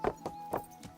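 Rhythmic horse hoofbeats, four quick clip-clops in one second, fairly quiet and steady, with no voices, in the video game Kingdom Come: Deliverance II.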